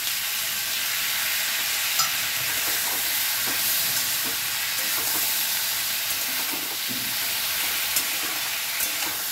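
Thin moringa drumsticks and chopped tomato fry in a pan with a loud, continuous hiss and sizzle and faint stirring scrapes underneath.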